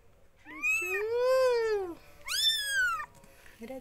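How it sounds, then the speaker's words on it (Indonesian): Newborn Javanese village kittens give two thin, high, wavering meows in quick succession, close and clear against a quiet room. "Anak kucing Jawa, anak kucing Jawa, anak kucing Jawa lucu."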